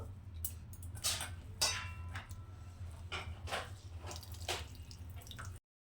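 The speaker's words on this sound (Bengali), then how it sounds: "এইভাবে মূলোটাকে পুরো জলটা আমি চিপে নেবো" Water drips and trickles as grated radish is squeezed by hand, with irregular soft splashes over a steady low hum, fairly quiet and close, with no talk.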